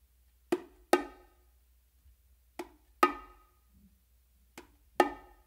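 A bongo combination on the macho drum repeats three times: a sharp slap, a light finger tap, then a ringing open tone. The strokes are crisp and close against near silence.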